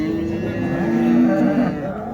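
A cow at a livestock market gives one long, loud, low moo lasting about two seconds, close by, with faint crowd noise underneath.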